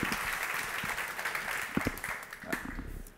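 An audience at a KotlinConf 2017 talk on Gradle claps as the session ends, a scattered run of sharp hand claps with a few louder individual claps standing out near the end.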